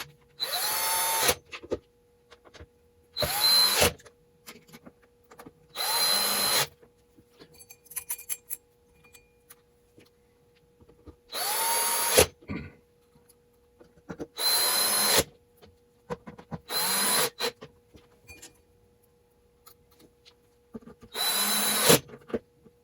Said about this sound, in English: Let's put all these screws back in.